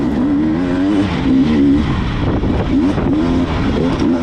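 A dirt bike engine revs hard during a wooded hare scramble race, loud and close with rising and falling throttle bursts, a brief spin on a root, continuous without speech.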